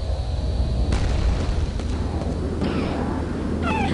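Rocket explosions in Quake 2 sound as a loud, continuous rumbling boom with a heavy low end, and a few sharper bursts break through, with no talking over them.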